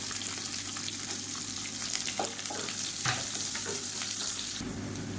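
Mustard seeds and finely chopped big onions frying in hot oil in a pan for tomato gosthu, a steady close sizzle with scattered pops and stirring scrapes, no talk.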